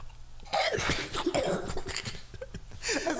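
A person coughs several times in a rough, clustered burst, close up, with a brief pause before a final cough.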